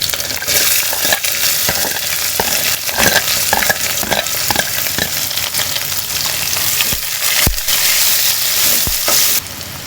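Onions sautéing in a pan for village-style poricha kulambu, a steady close sizzle with repeated scraping stirs and a few sharp utensil knocks near the end.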